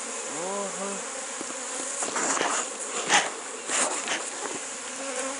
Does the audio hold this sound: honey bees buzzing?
yes